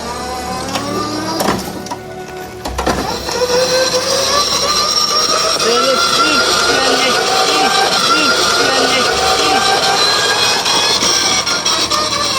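An old ride-on lawn mower tractor engine runs steadily at close range, a loud continuous droning whine with a brief dip and clatter early on before settling into a sustained roar.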